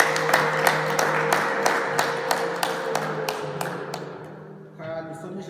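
Scattered rhythmic hand clapping from a wedding ceremony crowd, a run of sharp distinct claps that thins and fades toward the end before background chatter takes over.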